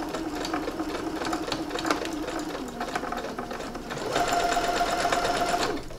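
A sewing machine runs steadily stitching a seam through fabric, then speeds up for a short burst of backstitching near the end, close and continuous with no talking.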